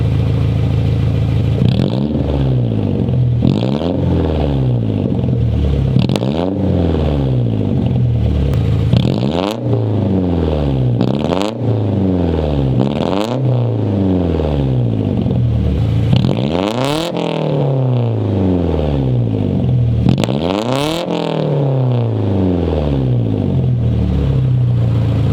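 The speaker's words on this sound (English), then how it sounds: "free rev it a little bit so you can check it out" A Nissan 240SX with an ISR exhaust free-revs while parked, roughly a dozen sharp throttle blips rising and falling in pitch, loud and close, each rev swelling then dropping back to a burbling idle.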